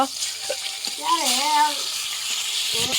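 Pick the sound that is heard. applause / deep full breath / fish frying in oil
fish frying in oil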